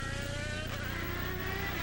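An IndyCar race car driving on the Baltimore street circuit gives a steady high-pitched engine whine with shifting harmonic tones, loud and close for a couple of seconds, with no voices.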